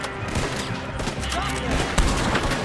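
Gunfire in Red Dead Redemption 2, a burst of game shots with a sharp loud crack near two seconds, set among dense combat noise and music.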